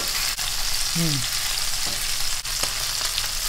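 Food sizzling and frying steadily in a pan after being flipped, a continuous close hiss with a brief scrape of a utensil against the pan, no talking.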